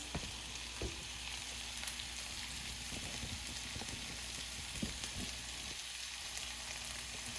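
Steady, loud sizzling of soy sauce hitting a hot frying pan, with a few light clicks and scrapes over the continuous hiss.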